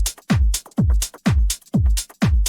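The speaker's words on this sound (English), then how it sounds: "And in the second part of the drop, there are some more elements coming in." Tech house drum loop from the second part of the drop, with extra percussion layered over the pounding kick: steady four-on-the-floor thumps, busy hats and snappy hits in a tight groove.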